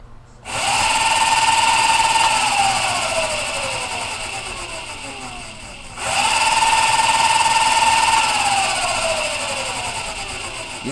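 A 1200 watt electric scooter motor spins the rear wheel at full speed, whining up to a steady high pitch and slowly winding down twice, loud and close with no talk.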